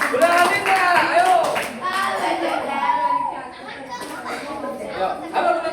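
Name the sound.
children clapping hands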